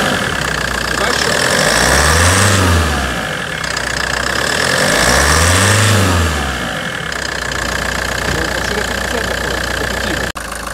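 A warmed-up Hyundai Terracan engine at about 70 degrees idles with a steady mid-pitched hum, swelling twice in brief rises before settling back to an even idle.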